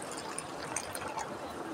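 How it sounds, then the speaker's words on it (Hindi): Water is poured into flour in a kitchen while mixing dough for aloo paratha, making a steady soft splashing and trickling that fills the whole moment, with no talking. "तो हम इसमें पानी डाल के इसको जल्दी जल्दी गून लेते हैं"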